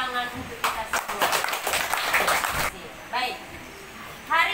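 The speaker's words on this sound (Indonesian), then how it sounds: "Tepuk tangan untuk kita semua." Hands clap together in a classroom in a burst of a couple of seconds, with some speech around it and a few short voice bursts afterwards.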